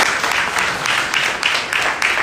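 Audience applause at a business stage event, a short burst of loud, dense clapping close by with a pulsing rhythm and no talk over it.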